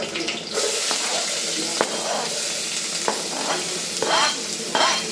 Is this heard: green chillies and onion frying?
yes